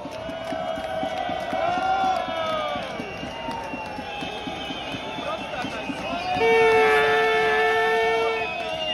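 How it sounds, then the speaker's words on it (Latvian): Protest crowd outside a government building: cheering and applause swell from the gathered people, rising louder toward the end, with voices and shouts mixed through the noise. "Lūdzu ovācijas, lūdzu ovācijas."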